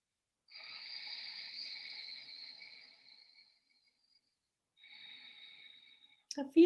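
Slow breathing drawn through the back of the throat with a light snore-like hiss: one long exhale, a pause of silence, then a second shorter breath, soft and close, ending with a brief rustle.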